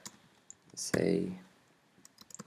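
Keys on a computer keyboard click lightly and unevenly while someone codes JavaScript, with a short burst of speech in the middle and a quick cluster of keystrokes near the end.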